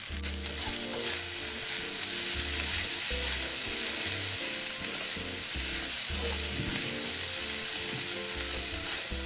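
Taro pieces stir-fried with a little celery essence sizzle steadily in a hot pan, a continuous dense frying hiss with low rhythmic scraping and stirring throughout, close and alone with no talk.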